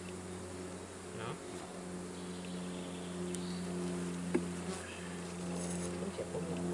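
Honeybees at a sparsely populated hive during a spring inspection make a steady, low, droning buzz that holds throughout. A few faint ticks and rustles sit over the hum.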